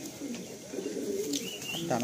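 Madrasi pigeons coo softly and steadily inside a crowded loft, low burbling calls overlapping under faint background voices and room noise.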